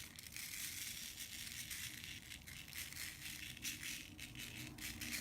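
Embossing powder is poured over a sheet of paper, giving a soft, continuous granular rattle and crinkle that stays faint and close without any talking.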